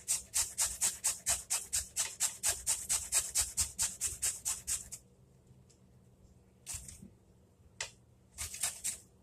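Food shredded on a box grater, a close, fast, even rhythm of about twenty rasping strokes, then a pause with light scrapes and a few more strokes at the end.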